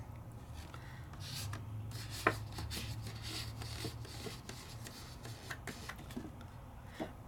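Pigment ink being dabbed onto paper with a sponge, a soft continuous rubbing and scuffing texture with small taps and rasps, quiet and close, no voices.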